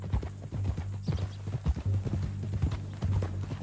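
Horse hooves in Red Dead Redemption 2 clip-clop in an uneven walking rhythm, close and distinct over a low steady hum, with no speech.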